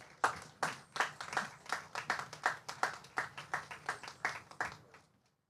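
Clapping at a symposium opening ceremony: about sixteen sharp, evenly spaced claps in a steady rhythm, moderately close, tapering off and falling silent near the end.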